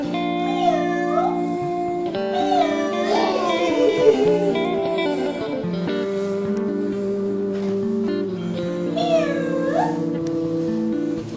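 Cat meows come in several short rising calls spread through the stretch, set against sustained tonal, music-like backing at moderate loudness.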